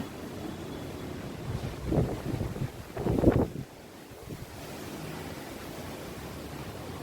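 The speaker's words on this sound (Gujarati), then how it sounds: "કેટલો પવન આવી રહ્યો છે." Strong storm wind gusting against the microphone, a low steady rush swelling into two louder blasts midway before settling back to a constant roar, no voices.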